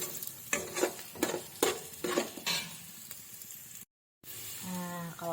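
Aromatics frying for a Filipino chicken tinola, stirred in a pan until browned: a steady sizzle broken by several scraping stirs, then a short gap before the frying resumes. There is no talk.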